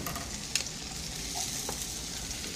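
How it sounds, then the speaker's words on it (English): Onions and garlic sweating in a pan on a stove give a steady, moderate sizzle with light stirring scrapes, heard alone with no talk. "Take some onions, sweat the onions out, a little garlic,"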